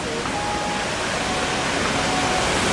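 A waterfall on the Great Ocean Road pouring heavily, a dense, steady roar of rushing water close by with no breaks for the whole stretch.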